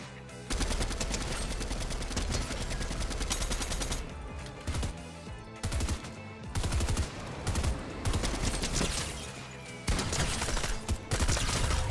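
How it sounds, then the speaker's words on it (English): A drum gun firing in the video game Fortnite, loud rapid automatic bursts in several long strings separated by short pauses, with no talking over it. "Is that the drum gun?"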